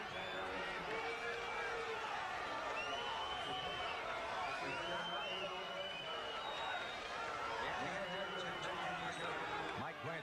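A large tennis crowd at a 1979 US Open match between Ilie Nastase and John McEnroe roars and chatters in a dense, steady wash of noise, with a voice talking over it.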